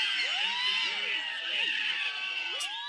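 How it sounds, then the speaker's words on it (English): A crowd cheers steadily with whoops and excited shouting, a continuous bright wash of many voices at moderate distance. "Too much cheering."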